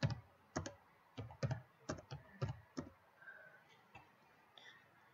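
Keys clatter on a computer keyboard as a message is typed into a Roblox game chat, a quick run of close, crisp clicks in short bursts that thin out toward the end, no voices.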